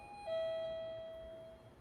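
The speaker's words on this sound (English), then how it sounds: "I have the doorbell" A doorbell rings once with a two-tone ding-dong, a clear sustained chime that slowly fades against a quiet room.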